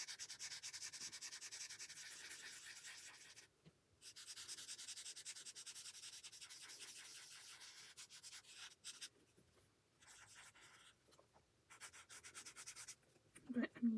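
A felt marker's chisel tip coloring on paper makes a steady, soft scratchy rubbing, close and quiet, with brief pauses between strokes and a faint clink near the end.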